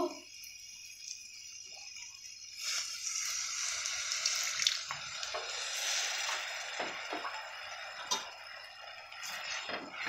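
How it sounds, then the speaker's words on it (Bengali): A small amount of water goes into a cooking pan of spice masala for a potol and lentil curry with potatoes, producing a steady moderate hiss and gurgle that swells after a quiet start and continues to the end. "এরপর আমি অল্প করে জল দেব।"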